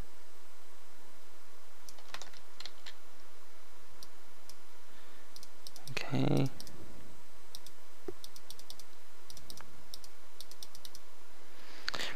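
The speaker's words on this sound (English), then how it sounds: "So you're gonna have to left click" A computer mouse clicks while working in Hammer Editor, with sparse, sharp, close clicks scattered over a faint steady hum and one louder brief rustle midway.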